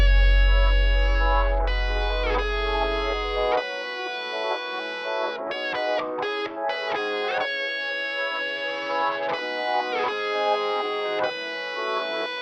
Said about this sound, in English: I cranked the fuzz up on this one, and this is what that sounds like with everything